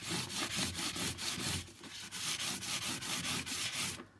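Hand sanding of a cured resin layer, rapid steady back-and-forth scrubbing strokes at close range, about four per second with a brief pause midway, no voices.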